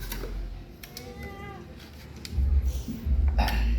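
Cat meowing outdoors, a few short mewing calls heard moderately close amid background noise and low rumbling, with people talking nearby.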